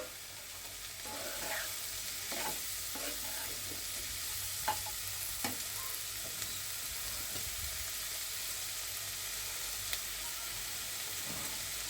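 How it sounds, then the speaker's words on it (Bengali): Bitter gourd and potato fry in a pan with a constant hissing sizzle, broken by occasional soft stirring knocks and scrapes, close and steady with no talking. "এখানে আমি করলাগুলো দিয়ে দিব"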